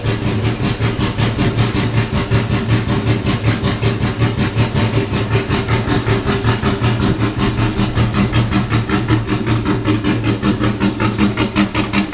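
Close, loud idle of a Chevrolet C10 truck running a new exhaust: a low, throaty burble with quick regular pulses, holding steady and even for the whole stretch.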